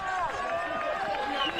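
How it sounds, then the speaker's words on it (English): Spectators along the course at the UTMB ultra-trail race in Mont-Blanc cheer for runner Ben Demon, a steady wash of whoops and shouting voices that holds loud and close through the moment. "Let's listen in to the cheers for Ben Demon."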